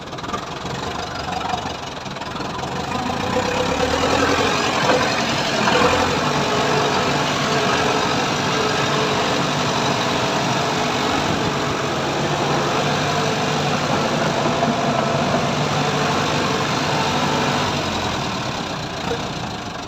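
A 90 horsepower tractor engine idles steadily up close, a loud continuous rumble that holds level throughout with no voices.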